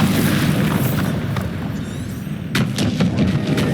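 The Bombarda explosion spell in the Hogwarts Legacy video game, heard as dense booming blasts with a heavy rumble and a fresh burst of impacts partway through, loud and without speech.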